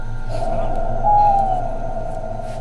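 A single bird call, a steady hooting or cooing tone held for about two seconds over a low background hum, clear but moderate in volume.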